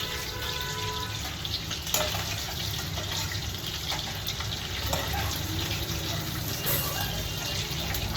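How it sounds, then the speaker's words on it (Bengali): Pre-boiled shrimp sizzle in hot oil with a steady, dense crackling hiss that holds even and close throughout, with a few brief sharper pops. "এবার আমি তেলে ফ্রাই করব।"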